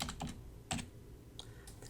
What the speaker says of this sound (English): by typing it in